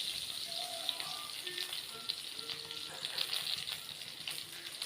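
Onion frying in oil with mustard seeds for beetroot poriyal: a faint, steady sizzle with small scattered pops and crackles runs throughout, quiet and continuous with no talking.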